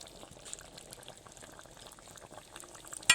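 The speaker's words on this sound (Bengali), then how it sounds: "চলুন কয়েক মিনিট ফুটে যাওয়ার জন্য সময় দিই" Tangra fish oil-chili curry sauce simmering in a pan, soft bubbling and popping at low volume, ending in a brief louder clatter, with no voices.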